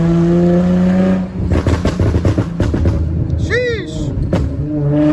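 An Infiniti G35 engine revs hard, drops through gear shifts and then revs again, loud and close from inside the car, with a voice talking over part of it.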